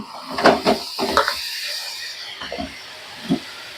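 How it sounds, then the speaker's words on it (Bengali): Raw mango pickle mixture for bati achar tipped from a bowl into a wide wok, giving a few close clinks and scrapes of cookware with brief soft knocks in between. "এরপরে কড়াইতে ঢেলে দেব"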